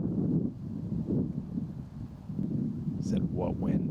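Wind gusts across an outdoor golf course, a low rumbling buffet of air hitting the microphone that swells and fades continuously, with faint voices in the background.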